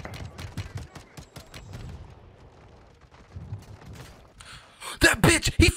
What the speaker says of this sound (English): Oh, he has a minigun.